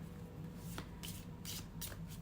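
Tarot cards riffle and shuffle in a few quick bursts over a faint steady hum, with soft papery flicks between them.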